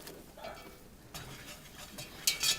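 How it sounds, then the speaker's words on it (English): A spoon stirring flour into melted butter in a pan, close soft scraping and swishing strokes with a faint sizzle, a sharper louder scrape near the end. "And we're going to stir that in."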